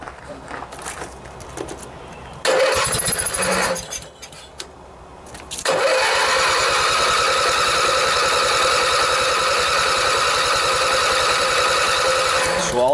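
A Briggs and Stratton opposed-twin engine on a riding lawnmower cranks over with a fast, steady starter whir, first in short bursts, then in one long continuous loud spell that runs to the end.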